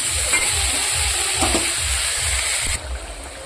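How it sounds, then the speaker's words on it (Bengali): Fried cauliflower with added spices sizzling loudly in a pan, a dense frying hiss with a steady rhythm of stirring strokes that drops off abruptly near the end; no voices. "মশলা দিয়ে এবার কষিয়ে দেবো"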